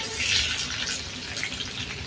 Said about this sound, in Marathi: आता आपण हा स्ट्रेन करून घेऊया थंड पाण्याखाली